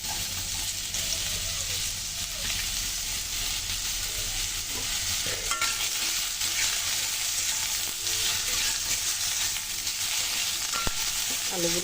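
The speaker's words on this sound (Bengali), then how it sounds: "আলুগুলো সুন্দর করে ভেজে নেব।" Potatoes frying in oil in a home kitchen while making pasta, giving a steady, moderately loud sizzle throughout with faint clinks of a utensil now and then.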